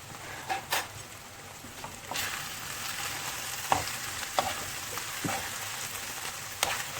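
Minced meat frying with red pepper, thyme and salt, a dense close sizzle with intermittent scraping knocks of stirring in the pan, no voices.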